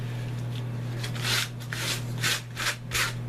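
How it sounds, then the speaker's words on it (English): Sandpaper rubs in several short, rasping strokes over tanned fish skin, close up, with a steady low hum underneath. "take my sandpaper, kind of brush it, lay it back out again."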